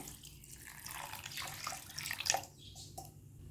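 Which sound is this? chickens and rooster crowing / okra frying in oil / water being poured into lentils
water being poured into lentils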